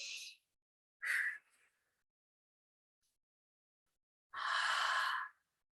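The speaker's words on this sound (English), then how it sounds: "A few breaths in and out through the nose," Slow breathing in and out through the nose during a quiet yoga breathing practice, heard as three soft, separate breaths with silent pauses between them.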